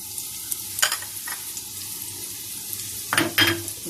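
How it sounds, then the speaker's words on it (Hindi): Golden fried onions sizzle in a pan as spices are added for a liver and lung dish, with a steady low frying hiss and a few close stirring scrapes and clatters. "इससे पहले कि हमारी प्याज जले हम मसाला डालेंगे।"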